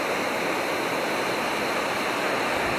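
The White River rushes swiftly past close by, a steady, dense roar of fast-flowing water that holds unbroken throughout, with no voices over it.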